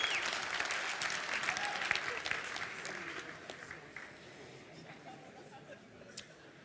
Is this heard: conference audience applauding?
yes